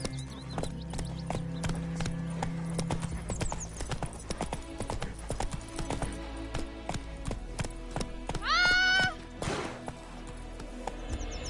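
The horse Roach gallops in The Witcher 3 video game, with rapid, continuous hoofbeats close up, a neigh near the end, and scattered thuds and clatter in the game's soundscape.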